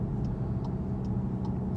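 A 2019 Volkswagen Jetta GLI drives through a right turn, with a steady low road and engine drone inside the cabin and a faint regular ticking, like a turn signal, repeating about every 0.4 seconds.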